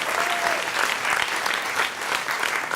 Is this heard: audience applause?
yes